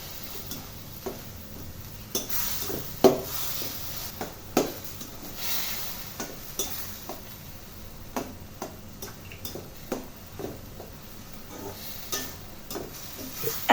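Soy sauce and black pepper are stir-fried in a pan for poutine, soft background sizzle broken by repeated sharp clicks and taps of a utensil against the pan at an uneven rhythm, close by, with no speech.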